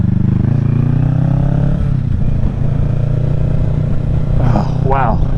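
A 2023 Kawasaki Ninja 650 fitted with a Yoshimura Alpha exhaust runs loud and close with a steady, deep engine drone. A brief higher-pitched rise comes near the end.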